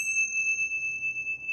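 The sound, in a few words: small bells chiming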